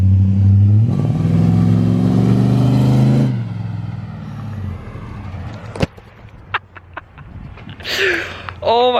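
A work van engine fitted with headers revs outside, a loud deep growling burst for a few seconds before dropping to a lower idle rumble, followed by scattered clicks and a voice talking near the end.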